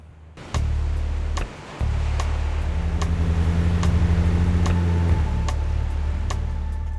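A four-wheel-drive vehicle bogged in soft sand, with lowered tyre pressures, revs its engine in a loud sustained drone that steps up and down as it rocks backward and forward, with a brief dip early on and no talk.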